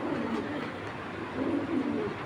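A breeding pair of black Python-line racing pigeons coos nearby in low, rolling bursts over a steady background hiss.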